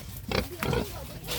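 A large farm pig grunts close by in a few short, rough bursts.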